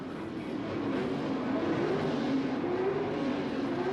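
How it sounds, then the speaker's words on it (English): Chevrolet Monza drag car with a small block Chevrolet engine idling near the starting line at the 1978 NHRA Gatornationals, a steady, rough engine drone with a slowly wavering pitch and no talk over it. "A Chevrolet Monza, small block Chevrolet engine."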